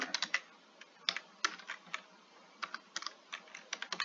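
Fingers tap quickly at a computer keyboard, bursts of crisp, close clicks with short pauses between runs, fairly quiet, with no talking.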